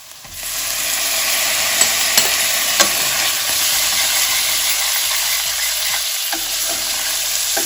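A frying korma sizzles loudly and continuously in a pan, with a few sharp clinks and scrapes as raisins and pineapple are stirred in, close with no voice.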